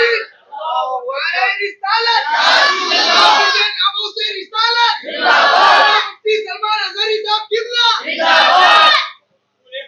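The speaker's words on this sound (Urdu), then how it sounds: "حضور پاک صلی اللہ تعالی علیہ وسلم کی محبت میں نعرے لگائے" A large crowd at a religious gathering chants slogans in love of the Prophet Muhammad, a lead voice calling out and the crowd roaring back loudly in three big surges.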